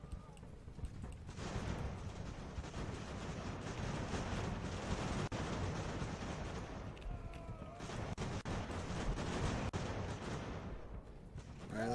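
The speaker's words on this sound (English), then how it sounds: "I hear cannon fire." Dense, continuous rumble of cannon fire and musketry from the naval strategy game Ultimate Admiral Age of Sail, with coastal batteries booming as overlapping distant blasts under a steady roar of battle.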